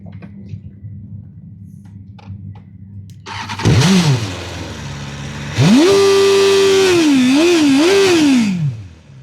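BMW S1000R streetfighter motorcycle starting up nearby: a starter whir catches into a sharp rev, settles to idle, then a longer throttle blip climbs, wavers with two quick rises and falls, and drops back, loud and alone.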